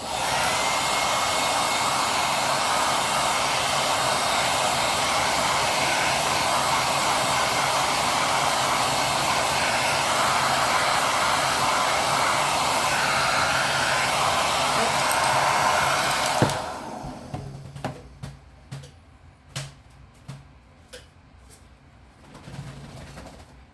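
A hair dryer blows steadily and loudly on a watercolor mountain landscape painting for about sixteen seconds, then switches off, leaving a few faint clicks and taps in near silence.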